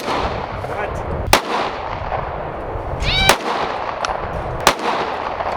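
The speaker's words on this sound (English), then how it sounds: "Is this your first time shooting an AR?" Three sharp, loud gunshots from an AR-style rifle fired outdoors, spaced unevenly about a second or two apart, each a crisp crack over steady background rumble.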